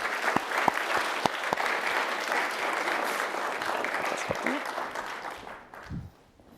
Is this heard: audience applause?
yes